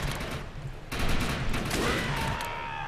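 Gunfire crackles in the video game Defiance, a dense burst of rapid shots that starts abruptly and keeps up over a steady background, loud and close without speech.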